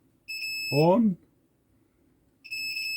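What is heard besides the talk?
multimeter continuity beep while testing switches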